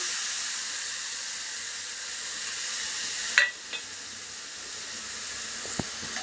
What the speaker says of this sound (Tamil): இப்போ ஜஸ்ட்டு வந்து கருவாடை வந்து ஃப்ரை பண்ண போகிறோம்